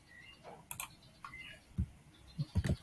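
Computer keyboard keys are pressed for copy-and-paste shortcuts: scattered, close clicks and taps, with a quick cluster at the end.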